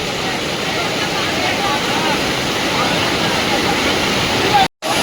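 Loud, continuous roar of Pahine waterfall, a dense rushing wash of water that cuts out abruptly near the end.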